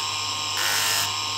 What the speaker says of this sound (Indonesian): kita amplas seperti yang tadi